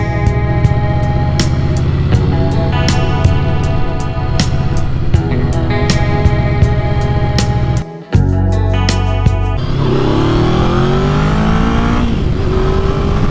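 A Yamaha VMAX 1700 motorcycle pulls hard in second gear, its engine roaring loud and close with rising pitch, then a brief dip at a shift before it climbs again.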